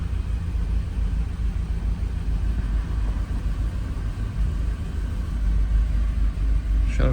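A truck engine idles roughly at close range, a dense, shaking low rumble that stays steady and loud throughout with a slight swell near the end.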